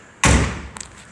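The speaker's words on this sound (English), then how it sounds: "Close the door." A car door slams shut beside a red fire truck, one loud close thud followed by a faint rattle, with no talk over it.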